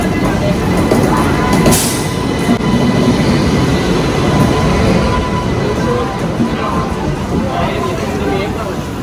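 A passenger train rolls into a busy Indian railway station, a loud, continuous rumble of wheels and carriages close by, under a constant hubbub of crowd voices on the platform.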